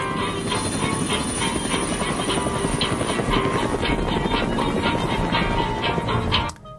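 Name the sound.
helicopter in a TV show scene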